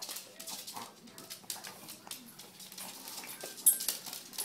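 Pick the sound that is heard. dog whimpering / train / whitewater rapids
dog whimpering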